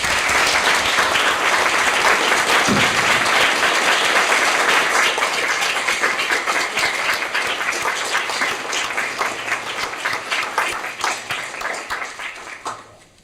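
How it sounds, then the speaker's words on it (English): Loud, dense round of applause from the audience at a city council meeting honoring a fallen hero, sustained for many seconds before thinning and tapering off toward the end. "let's give him a big round of applause"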